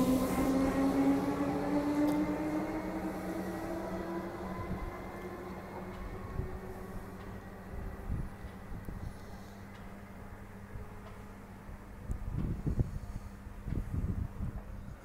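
An EDI Comeng suburban electric train passes through Armadale Station in Melbourne, its rising motor whine fading into a steady low rumble with soft wheel clicks. Light wind noise lies over it, and no one speaks.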